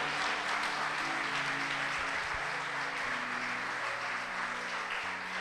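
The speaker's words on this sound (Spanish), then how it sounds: "Dale fuerte aplauso al que vive" A church congregation in Corrientes claps loudly and steadily, a thick wash of applause sustained throughout with a low musical drone underneath.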